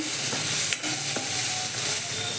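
Garlic and ginger roasting in a pan with a steady, soft sizzle and a few light stirring scrapes, close and fairly quiet, with no talking.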